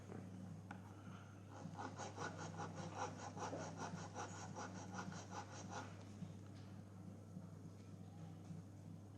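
Hand sanding of a wooden part for a model Cheng Ho junk boat, a close rhythmic scrubbing of about a dozen quick back-and-forth strokes, then stopping into quiet room tone.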